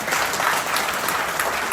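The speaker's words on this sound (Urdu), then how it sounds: "سب تالی بجا دو ہے" An audience at a mall opening claps during a speech, a brief, even burst of many hands applauding together, with no voices over it.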